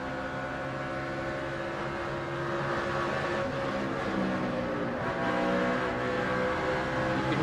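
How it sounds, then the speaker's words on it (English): A NASCAR race car engine at Atlanta drones steadily at close range, its pitch wavering and dropping slightly as the throttle eases, with no talk over it. "Hear how much he jumped off the throttle and probably put some brake on as well."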